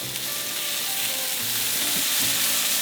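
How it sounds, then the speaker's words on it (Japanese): Mushrooms sizzle steadily as they sauté in a pan over medium heat with a pinch of salt for carbonara, a continuous close frying hiss with faint stirring, no voices. "じっくりと炒めて色をつけつつ、きのこの水分を飛ばしていくような感じ"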